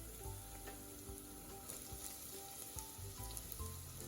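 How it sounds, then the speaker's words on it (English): Vegetables, including capsicum, sizzle in a pan with half-cooked onions over a medium-low flame. The hiss is soft and continuous, broken by occasional light stirring clicks, with no voices. "I'm adding the vegetables now."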